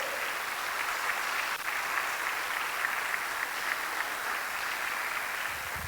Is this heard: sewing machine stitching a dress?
no